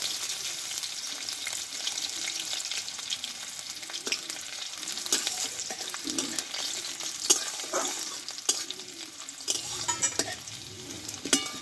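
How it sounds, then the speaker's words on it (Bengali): Cumin, panch phoron, slit green chilies and chopped ginger fry in hot oil, a close, steady sizzle with frequent scraping and stirring of a spatula against the pan. "দেখো এটা কিন্তু ভালোভাবে তেলে আমি কষিয়ে নিয়েছি"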